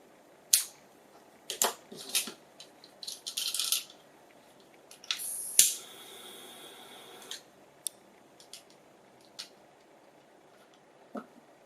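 Scissors snipping a wooden bead cord while making a metal ball knot bracelet: a handful of sharp, close clicks and short rustling cuts spaced apart in an otherwise quiet room.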